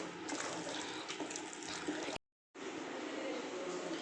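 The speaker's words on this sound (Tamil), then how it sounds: "1/4 டம்ளர் அளவுக்கு பார்த்து தண்ணி சேர்த்துங்க" Water is poured into rava idli batter in a home kitchen, giving a steady liquid pour and trickle that breaks off briefly midway, then resumes, with no talk over it.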